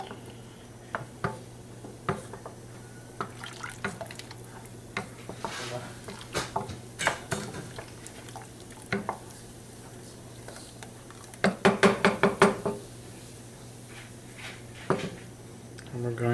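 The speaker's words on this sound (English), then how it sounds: "I'm going to go ahead and stir that up, get it mixed up while it's trying to heat up" A spoon scrapes and taps around a pot of chicken roscato fettuccine sauce on the stove as it heats, giving a string of close, irregular clicks with a quick burst of rapid strokes partway through, heard under occasional talk.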